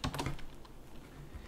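Rapid typing on a computer keyboard while entering user details, a quick close flurry of clicky keystrokes that thins into softer scattered taps, with no one speaking.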